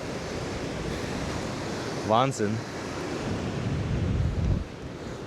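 Sea surf washing against the shore beside a 1940 WW2 bunker position, a steady broad roar with wind buffeting the microphone and someone speaking briefly partway through.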